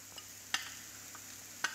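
Fish curry masala with tamarind water being sautéed in a pan for Alappuzha-style fish curry, a soft steady sizzle with two sharp spoon scrapes standing out, no voices.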